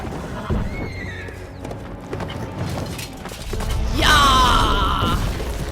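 Horse in The Witcher 3: Blood and Wine gallops with a steady clip-clop of hooves under game noise, then gives a loud, shrill neigh near the end.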